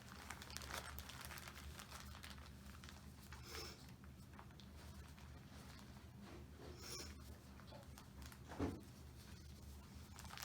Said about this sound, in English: then you're just going to roll the bag up